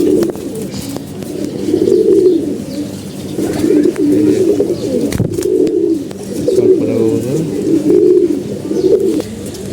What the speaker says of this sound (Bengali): যে কবুতর দেখতে পাচ্ছেন এই জোরের বাচ্চা হলো